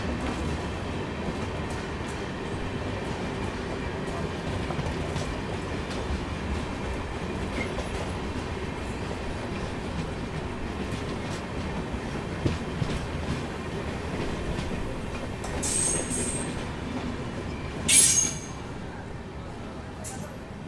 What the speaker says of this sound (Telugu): నవజీవన్ ఎక్స్ప్రెస్ ఇది సూపర్ ఫాస్ట్ ఎక్స్ప్రెస్.